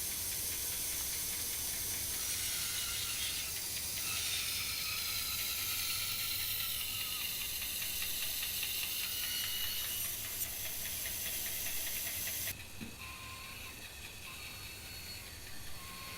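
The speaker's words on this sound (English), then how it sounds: "I'm just rotating the blank through the blade, and I'm cutting a fairly large chamfer along the bottom of the bowl." A saw blade cutting a large chamfer along the bottom of a walnut bowl blank as it is rotated through, a steady hissing roar that eases slightly near the end.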